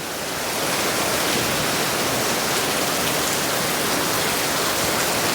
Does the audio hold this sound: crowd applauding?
no